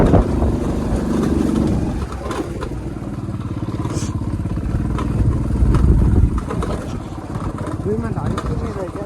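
A motorcycle engine idles and revs with a steady throbbing rumble close by, while people talk over it.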